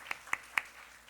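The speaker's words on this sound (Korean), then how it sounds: "우리 박수 한번 해주십시오." Applause during a church service: three short bursts of clapping, soft and somewhat distant, spaced out in a quiet room with no talk.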